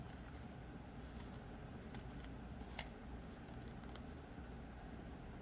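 Scissors snip off the wire ends of a handmade tree-of-life wire bracelet, giving a few faint, sharp clicks over a steady low background hum.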